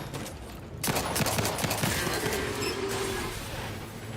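Rapid pistol fire from a video game, a fast burst of sharp shots that starts abruptly and runs on for several seconds, loud and close over a constant background rumble.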